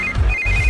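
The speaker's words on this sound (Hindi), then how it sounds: "इस वक्त दीदी का फोन।" Telephone ringing in a Hindi war film trailer, a brief electronic ring heard as two quick tonal bursts, loud and close, with no talk over it.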